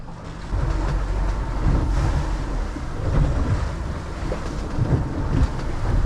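Offshore boat engines rumble steadily near a reef, a loud continuous low drone mixed with wind buffeting and wave wash.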